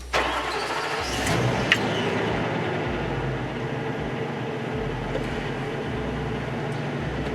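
A car with its check engine and ABS lights on cranks and catches in a repair shop, then settles into a steady, rumbling idle that carries on to the end.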